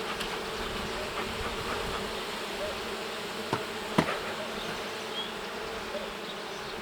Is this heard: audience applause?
no